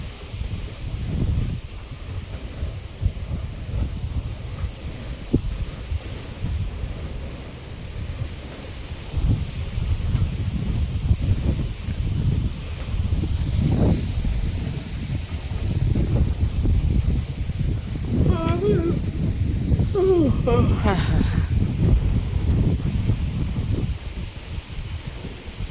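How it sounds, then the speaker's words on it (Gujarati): Strong wind blowing outdoors on a rural Gujarati farm with cattle, a loud continuous low rumble and buffeting against the microphone for nearly half a minute. "પથ્થરિયું ઉડે તે એવો પવન હે"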